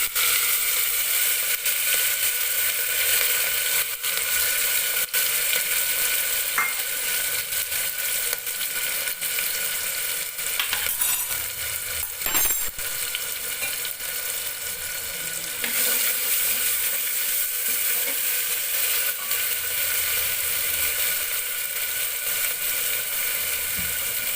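Cumin seeds and chopped tomatoes frying in a pan, a loud, steady, continuous sizzle with occasional stirring scrapes and no talking.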